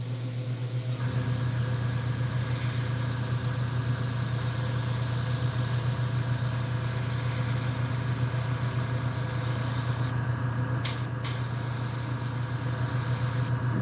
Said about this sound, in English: I'm going to also spray this side.